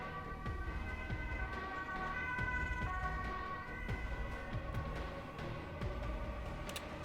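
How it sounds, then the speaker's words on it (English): Ambulance siren wailing past on a street, a steady rising-and-falling tone sustained throughout, faint and somewhat distant under traffic rumble. "Little ambulance coming by."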